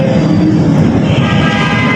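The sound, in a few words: Lahore Orange Line metro train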